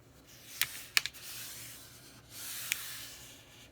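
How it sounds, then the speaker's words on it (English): A sheet of paper being folded slightly past halfway for a paper puppet, with a few sharp crinkles and soft rubbing swishes as the crease is pressed, close and fairly quiet. "I'm going to take a piece of paper and fold it just slightly past the halfway mark."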